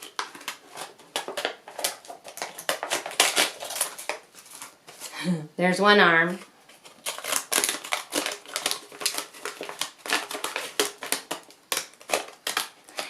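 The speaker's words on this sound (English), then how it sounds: "I'm just going to cut it with the scissors" Scissors snip through scrap recycled paper while a dog shape is cut freehand for a children's craft, with rapid crisp cuts running almost continuously under a person talking.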